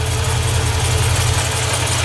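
A supercharged 2009 Cadillac CTS-V with headers and replaced exhaust idles in a steady, loud, close low rumble that holds even with no variation.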